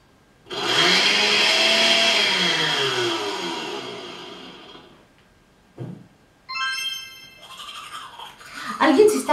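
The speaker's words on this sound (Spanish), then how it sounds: "Alguien se está lavando los dientes." An electric toothbrush whirs loudly for a few seconds and winds down, followed by brief clattering and scrubbing noises.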